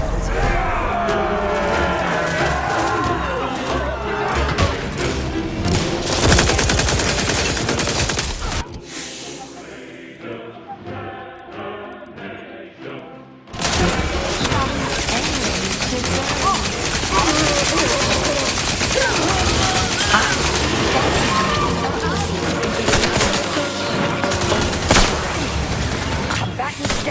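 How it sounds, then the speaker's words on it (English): Heavy, continuous gunfire in a combat firefight from The Outer Worlds 2, loud and dense for most of the stretch, cutting out briefly to a quieter muffled passage before the shooting roars back. "Never hurts to get the enemy to shoot us."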